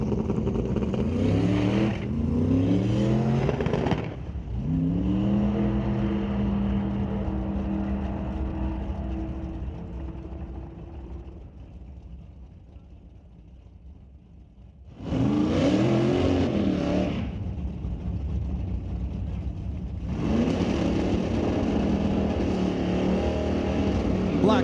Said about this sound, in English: Second gen Camaro on the tower side, he is going for a single run